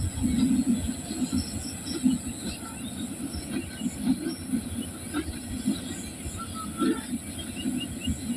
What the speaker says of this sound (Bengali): ওই যে শব্দ শুনতেছেন ট্রেন আইতেছে আর কি ট্রেনের শব্দ